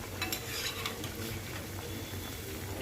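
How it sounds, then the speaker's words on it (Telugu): Bread mini donuts fry in hot oil with a steady, close sizzle and occasional faint scrapes of a utensil stirring them around the pan. "ఇప్పుడు ఈ డోనట్స్ అన్నీ కూడా గోల్డెన్ కలర్లో రెండు సైడ్లు కూడా గోల్డెన్ కలర్లు ఇచ్చే వరకు వేపుకోవాలి"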